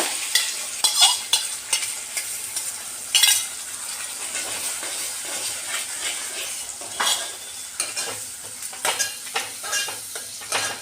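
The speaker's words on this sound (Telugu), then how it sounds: "ఇప్పుడు నేను ముందుగా టమాటా వేయించిన ఉల్లిగడ్డ జీడిపప్పు మిక్సీ పట్టిన కదా పేస్ట్ వేసి కలుపుతా" A paste of ground tomato, fried onion and cashew sizzles in oil in a pan while a spoon stirs and scrapes it, with irregular clinks and scrapes over a steady low fry.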